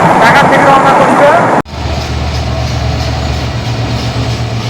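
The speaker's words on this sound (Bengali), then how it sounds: "যে ট্রেনটা ঢাকা থেকে রওনা করছে" A train pulls out of Saidabad station near the Jamuna Bridge in Sirajganj, heading away from Dhaka; a loud rushing rumble gives way after a sudden cut to a steady, lower rolling drone of the moving carriages.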